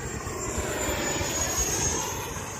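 An E-flite F-18 Blue Angels RC jet makes a steady, hissing whine as it passes in the air at moderate distance, with no talk.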